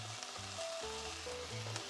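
Pancetta sizzles steadily in a lightly oiled pan for a pasta all'amatriciana, a close, continuous frying crackle with low tonal hum underneath and no voices.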